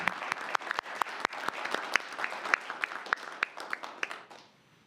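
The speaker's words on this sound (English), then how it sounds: "let's give her a round of applause as she comes to our community" A small crowd at a community redevelopment agency meeting claps for a woman coming forward, with sharp, distinct individual claps from nearby hands that thin out and stop near the end.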